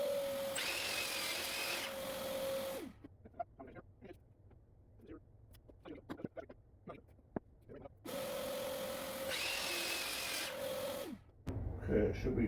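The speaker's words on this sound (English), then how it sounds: "we'll go to the table saw right behind me and cut it at the size we want" A table saw whines through two long cuts in wood, each run lasting a few seconds and separated by a quieter stretch of clicks, knocks and movement, with a short burst of noise at the end.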